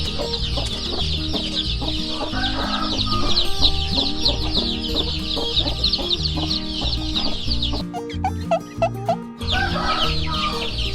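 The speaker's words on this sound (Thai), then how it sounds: "โอ้ไก่ได้มีโอกาสออกมาข้างนอกแล้ว" A flock of chickens clucks outdoors after a storm, with continuous overlapping close clucks and chatter and a few louder squawks, steady throughout with no talk.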